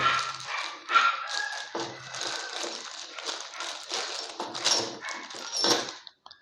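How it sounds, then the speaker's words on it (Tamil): A dog barks outside in a continuous run of yaps and yelps, fairly loud and close, with uneven rhythm and no pauses. "வெளியே வேறு என் டாக்கி ரொம்ப சவுண்டு போட்டுட்ருக்கா."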